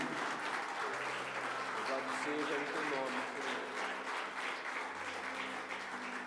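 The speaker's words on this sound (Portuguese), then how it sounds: "Dê um aplauso ao Senhor" Congregation applauding in a church during a Sunday service, a steady wash of clapping throughout with sustained tones and voices mixed in underneath.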